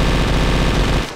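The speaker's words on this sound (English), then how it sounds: "So if you press V, you can shoot people with a minigun." Minigun fire in the Roblox game An Infinite Adventure, a dense, loud continuous rattle of rapid shots that runs unbroken for about a second before cutting off abruptly.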